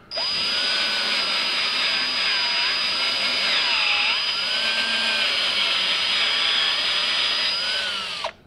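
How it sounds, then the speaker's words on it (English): A power drill bores into an aluminum LS engine block, a loud close whine that holds steady for about eight seconds, with its pitch dipping briefly as the bit loads up, then stopping. "Now, we're only drilling a little bit bigger than this hole, so this actually isn't gonna be that tough."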